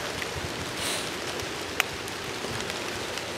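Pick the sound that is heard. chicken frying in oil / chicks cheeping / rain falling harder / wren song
rain falling harder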